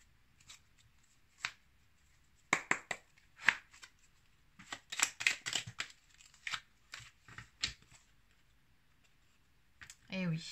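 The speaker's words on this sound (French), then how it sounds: "on va maintenant prendre quelques cartes" Tarot cards are shuffled and handled in short crisp bursts of riffling and flicking, with brief pauses between, close by in a quiet room, and a voice briefly at the end.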